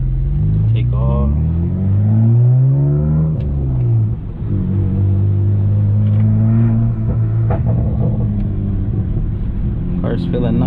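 A 600+ all-wheel-horsepower BMW 335xi with a six-speed manual pulls away from a stop, its engine rising through the revs, easing off at a shift, then climbing steadily again. Someone talks over the engine.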